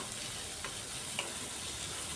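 Chopped tomato frying in a pan for a home chicken dish gives a faint, even sizzling hiss with a couple of soft ticks, quiet and close, with no voices.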